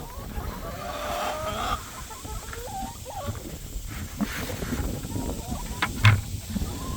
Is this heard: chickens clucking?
yes